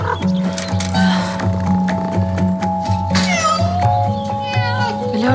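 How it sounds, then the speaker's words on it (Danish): A cat meows repeatedly in a dramatic scene from a Danish fantasy film trailer, with rising and falling cries set over a loud, sustained orchestral music bed. "Dumme kat!"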